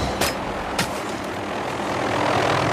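A helicopter flies overhead in a film action scene, a steady whirring engine drone with two sharp transient hits early on, the rotor roar slowly swelling louder toward the end.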